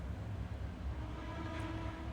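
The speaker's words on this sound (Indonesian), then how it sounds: "Kalau yang barusan tadi itu kereta." A train rumbles steadily nearby, a deep continuous roar with faint tonal hum, running the whole time without talk.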